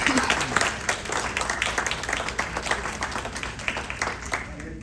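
Audience applause for the candidates at a political forum, a steady patter of many hands clapping through the whole stretch at moderate level, with a few voices faintly underneath.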